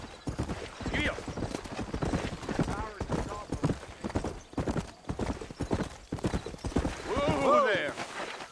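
Horse hooves clip-clop steadily in Red Dead Redemption, a western video game, as horses set off out of town, with someone talking over the rhythmic footfalls and a brief whinny near the end.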